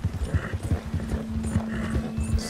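A horse's hooves clip-clop in Red Dead Redemption 2 at a quick trot with a brief whinny mixed in, close and steady, while a low tone hums underneath throughout.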